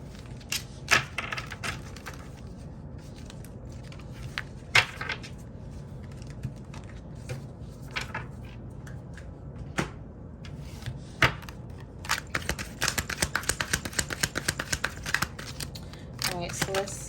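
Tarot cards shuffled in the hands, giving irregular crisp riffles and taps that speed up into a dense flurry near the end, set under a soft talking voice.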